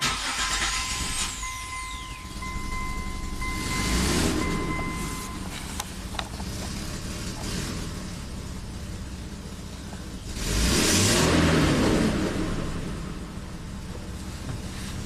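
A Mitsubishi Montero 4x4 engine runs at a steady idle, swelling into two loud revs a few seconds apart, with a thin whine near the start.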